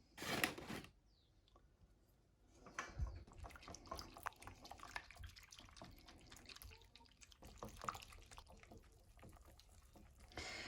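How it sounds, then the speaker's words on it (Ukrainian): Pitted cherries drain in a colander in a home kitchen, giving soft, irregular drips and light liquid trickles, quiet and close, with a brief louder splash near the start. "Вишню одразу відкидаю на друшлак."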